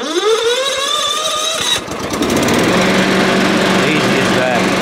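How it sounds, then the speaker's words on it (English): A Baumr 890SXE lawn mower with electric start cranks, catches with a rising whine and then settles into a loud, steady running engine drone close by. "All right, so I'll start the lawnmower."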